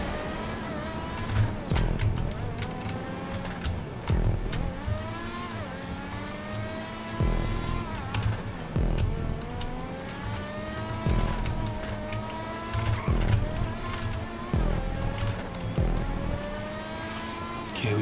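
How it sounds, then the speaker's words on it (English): Open-wheel race car engines in GTA 5 Online rev continuously and loudly, the pitch repeatedly climbing and dropping as the cars shift gears through an eighteen-second stretch of racing. "I can hear engines though."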